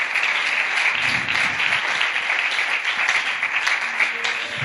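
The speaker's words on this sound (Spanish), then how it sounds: "Dale un aplauso al Señor" Church congregation applauding steadily throughout, a dense, continuous wash of clapping with faint voices mixed in during a worship service.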